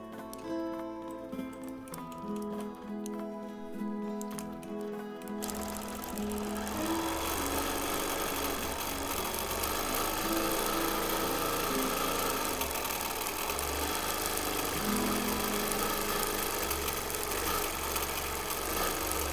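A quilting machine stitches a Christmas quilt with a steady rapid mechanical whir and ticking that starts after a few seconds and continues at constant loudness, close by.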